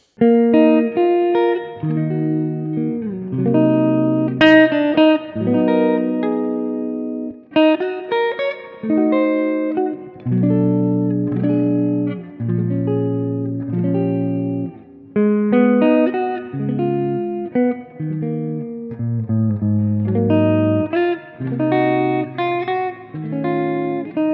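Clean electric guitar, a Gibson ES-339, plays chords and picked notes with a bright, undistorted tone, ringing out clearly on its own without any voices.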